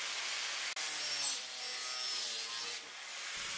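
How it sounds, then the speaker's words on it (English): An aluminum heatsink being cut down to size gives off a harsh, steady rasping grind of a tool on metal, fairly faint with short breaks, heard alone without talk. "While cutting the heatsink down to size, it started to become really hot."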